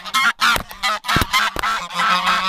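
Goose honking loudly and close, a rapid series of harsh nasal honks in irregular bursts separated by brief silences, with no speech.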